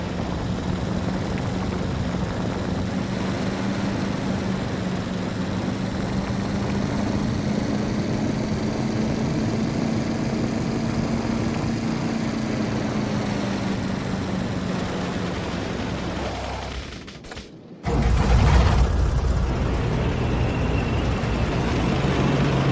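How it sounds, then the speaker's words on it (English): A car in the video game Factorio drives across ore, its engine droning steadily with a low hum and rough crunching underneath, briefly cutting out near the end before resuming louder. "The car, you can hear it driving across the ore."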